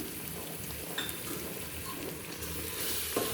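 Chili and coriander powder fry with mint in a pan, giving a steady, close sizzle with faint stirring scrapes and no talk.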